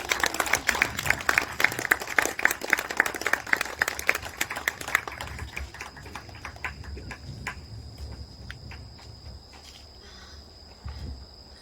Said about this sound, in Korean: 크게 박수 부탁드리겠습니다